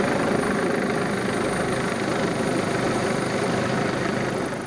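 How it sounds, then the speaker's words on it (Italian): A helicopter flies over a town, its steady, loud, broadband roar filling the whole stretch without letup and fading slightly only at the very end, with no voices. "l'elicottero sorvola il paese, un rumore che sembra amplificare dolore e inquietudine."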